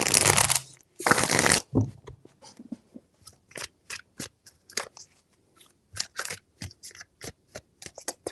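A tarot deck gives two loud, close riffling bursts, then a long run of light, scattered clicks and taps as the cards are handled and squared, with no talking.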